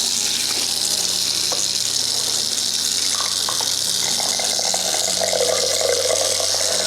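Cold tap water runs steadily over a synthetic wig, a continuous broadband gush with slight splashing variation, close and fairly loud throughout.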